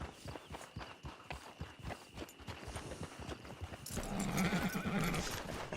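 Horse hooves clip-clop at a steady walking pace in the video game Red Dead Redemption Online, a run of evenly spaced thuds that turns into a louder rush with a whinny-like sound near the end, no speech.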